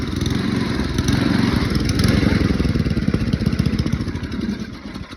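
A small engine salvaged from a discarded snowblower runs rough and uneven, a loud close sputtering roar with irregular popping and missing beats that surges slightly and then sags.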